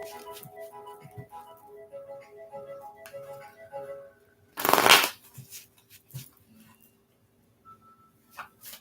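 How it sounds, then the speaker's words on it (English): A deck of tarot cards riffles in one short, loud, crisp shuffle burst near the middle, surrounded by light taps and clicks of cards being handled in an otherwise quiet room. "So let me shuffle the cards good"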